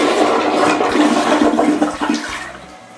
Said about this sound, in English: has this new toilet that can flush 18 golf balls